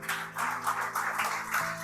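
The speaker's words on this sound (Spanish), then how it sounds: "Denle un aplauso al Señor Jesús" A church congregation claps in applause, a moderate, fairly even patter of hands that swells and dips, with faint sustained tones of music underneath.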